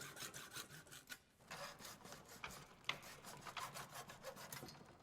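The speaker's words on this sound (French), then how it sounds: "Avec une scie à métaux, nous allons faire une entaille dans mon tube de 1 cm de large et de 3 à 4 cm de long" A hacksaw cuts a slot about 1 cm wide into a metal tube, giving repeated rasping back-and-forth strokes in an even rhythm with a short pause near the start; close and fairly quiet, with no talking.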